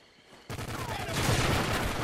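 Dense gunfire bursts in a squad-based military video game, a steady loud fusillade that swells after a sudden onset, with faint voices mixed in.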